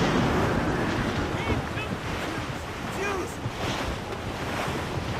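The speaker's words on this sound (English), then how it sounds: "Wind's getting vicious." Strong wind and heavy sea waves rush continuously around a sailing ship in the Assassin's Creed Rogue video game, a loud, dense roar that stays steady throughout with faint creaks and distant voices mixed in.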